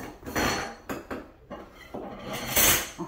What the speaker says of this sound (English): He's taking out all the drain plates so we can sanitize and clean